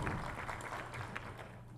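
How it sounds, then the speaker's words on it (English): Audience applause for a conference panel, a steady dense wash of clapping that is fairly quiet and held throughout with no speech over it. "Round of applause for our panel, please"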